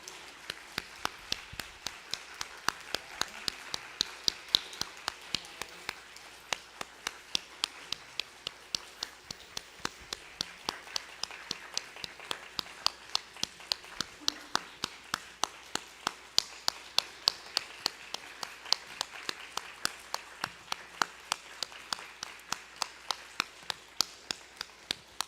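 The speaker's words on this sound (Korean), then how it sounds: "우리 다 함께 박수 치면서 축복하는 시간 가졌으면 좋겠습니다" A church congregation claps in steady rhythmic unison to bless newly adult twenty-year-olds during Sunday worship, a long run of evenly spaced beats at moderate volume with a murmur of the room beneath.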